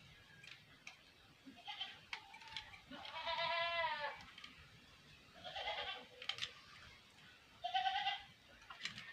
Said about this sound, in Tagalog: Pasensya na po sa maingay, no? Kasi may kambing kasi dito.